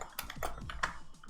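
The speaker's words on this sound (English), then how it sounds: "I'm going to start typing in F1, U3, and" Quick, light key taps on a computer keyboard, several distinct clicks in an uneven run, close and fairly quiet with no talking.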